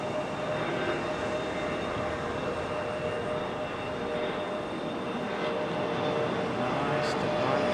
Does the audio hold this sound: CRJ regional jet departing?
yes